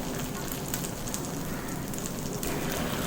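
Paniyaram batter sizzling in an oiled stone paniyaram pan over a medium flame, a steady dense crackle and hiss that carries on without a break, close and fairly loud, with no talking.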